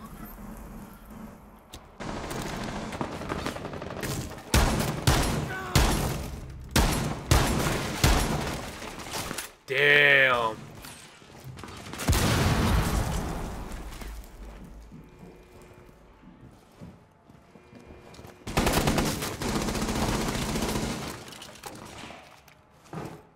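Gunfire in Rainbow Six Siege comes in several loud, rapid bursts separated by quieter stretches, with a short sweeping electronic tone in between.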